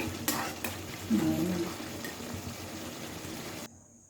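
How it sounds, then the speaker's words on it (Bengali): Potato dum is stir-fried in a pan with garam masala and ghee. A close, steady sizzle runs under the scraping and stirring of a spatula, then cuts off abruptly near the end. "এবার একটু গরম মশলা ঘি দিয়ে একদম কষা কষা করে"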